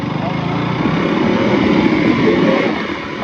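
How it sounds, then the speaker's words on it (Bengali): A motorbike ridden slowly along a village road gives a steady, close engine drone mixed with rushing wind noise that runs throughout, easing slightly toward the end. "এবার বাইক আমি রাইড করবো"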